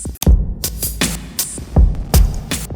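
A punchy cinematic drum loop with heavy low kicks and sharp, bright hits in a steady, uneven rhythm, dry and close, with no reverb.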